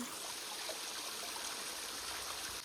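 Steady rushing water flows continuously, a broad even wash of sound like a channel or canal running close by, with no voices.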